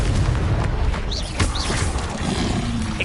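Confringo explosion spell in Hogwarts Legacy, a dull boom amid continuous rumbling spell effects and a few short whooshing bursts, loud and dense with no voices over it.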